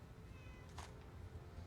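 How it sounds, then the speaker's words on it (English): A cat in the video game Fallout 4 gives a single short meow, fairly faint and distant over a low steady background hum. "Cat. I heard a cat."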